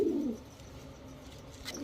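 A pair of Sirazi pigeons gives a short, deep cooing call right at the start, followed by quieter background noise and a faint second stir near the end.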